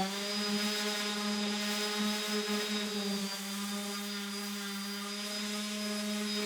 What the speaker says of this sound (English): Now it needs sanding to prepare it for paint.